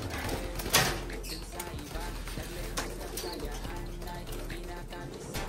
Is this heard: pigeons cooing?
yes